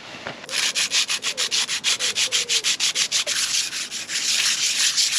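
A motorcycle clutch plate is scrubbed back and forth on a smooth concrete garage floor, giving a steady run of close, rhythmic rasping strokes, about four per second, with no talk.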